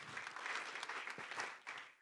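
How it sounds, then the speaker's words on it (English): Applause for the emcees at an insurance sales conference, a steady indoor clatter of many hands clapping throughout the two seconds with no voices over it. "A round of applause for them."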